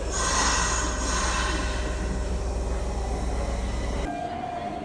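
A crowded train rumbles loudly and steadily nearby in Japan, then the noise drops abruptly as it passes, leaving a quieter hum.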